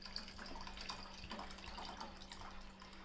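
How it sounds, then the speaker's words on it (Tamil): Water runs steadily from a tap into a bowl of washed chana dal so it can soak. The pour is quiet and continuous, with a faint low hum underneath. "இப்போ நம்ம தண்ணி ஊற்றி வச்சிடலாம்."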